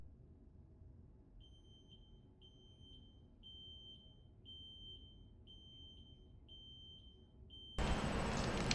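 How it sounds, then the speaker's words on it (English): A fire alarm in the video game Back to the Dawn beeps in a steady, evenly spaced series of short, high tones over a quiet hum, then a sudden broadband burst cuts in near the end. "Did the fire alarm trigger the emergency evacuation system?"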